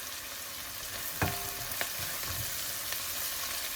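Chopped ginger, garlic and curry leaves fry with a pinch of salt in oil, a continuous close sizzle with a few sharp clicks of a spoon against the pan, no talking.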